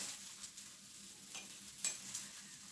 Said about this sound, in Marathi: डोसा पलटूया. बघा, मस्त असं छान कडा सुटले आपले. आता हे पलटून घेऊया.